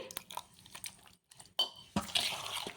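Water trickles and splashes into a thick wheat semolina batter in short pours, with wet stirring and dripping sounds close by.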